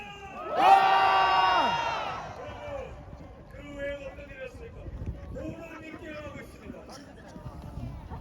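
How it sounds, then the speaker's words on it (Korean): A large crowd at an outdoor political rally at Dongdaegu Station roars in a loud burst of cheering and shouting, then fades to a lower murmur with scattered voices and a speaker talking over a PA. "60대, 70대도 함성!"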